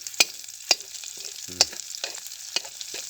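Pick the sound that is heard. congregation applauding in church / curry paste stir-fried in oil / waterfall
curry paste stir-fried in oil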